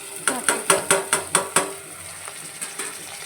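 Beans (kaalu) are fried and stirred in a pan, giving about seven quick, evenly spaced metallic scraping strikes followed by a softer sizzle and a couple of lighter taps.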